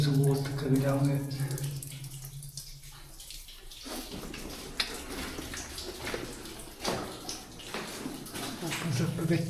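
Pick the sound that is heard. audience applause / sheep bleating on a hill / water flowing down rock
water flowing down rock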